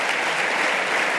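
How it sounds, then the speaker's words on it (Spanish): Audience applause at the Aragón Family Business Award 2024 ceremony, a steady dense clapping from a crowd filling the whole moment, loud and continuous with no voices over it. "Aplauso para ellos."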